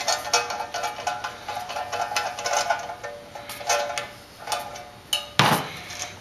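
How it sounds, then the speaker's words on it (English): Metal tool work on a punch and flare tool as its bolt is backed out, a series of close light metallic clicks and scrapes in irregular rhythm, ending with a sharper knock near the end. "We're going to unscrew this."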